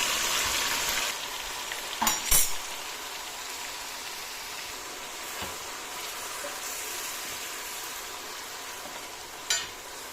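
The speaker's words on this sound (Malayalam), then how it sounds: "അതിനുശേഷം അരച്ച് വെച്ചിരിക്കുന്ന അരപ്പ് പാത്രത്തിലേക്ക് ഇട്ട് കൊടുക്കുക." Ground masala paste sizzles in a hot pan for a Kerala-style fish head curry, making a steady, close frying hiss throughout with a few brief sharp clatters.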